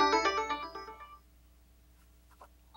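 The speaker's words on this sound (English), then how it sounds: "And now that ringtone volume has been saved." An Alcatel-Lucent 8068s desk phone plays a short melodic ringtone burst at an adjusted volume, a quick run of bright electronic tones that fades within about a second, followed by quiet room noise and a few faint clicks.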